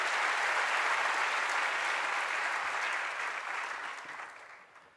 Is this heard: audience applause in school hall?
yes